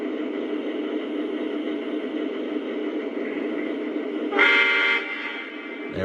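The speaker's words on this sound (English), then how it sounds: "let's hear the horn" Horn of a Lion Chief RJ Corman SD40T-2 model locomotive, sounding once as a short, bright blast under a steady electronic hum from the running model train.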